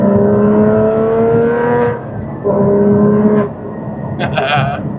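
A 2016 Porsche Cayman GT4 Manual being driven: loud, close engine revving that climbs, drops off between gear changes and climbs again, with a voice talking inside the car.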